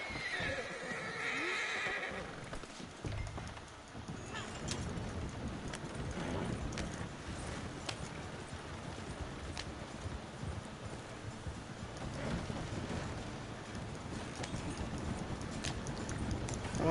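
Horse in the Red Dead Online video game, heard as neighing and whinnying over clip-clop hooves trotting, with continuous rustling movement throughout and no clear speech.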